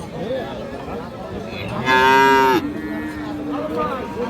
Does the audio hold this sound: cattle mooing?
yes